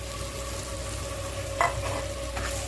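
Grated coconut fries over low heat in a pan for coconut rice, giving a quiet steady sizzle with a faint tonal hum and a couple of brief stirring scrapes, no voices.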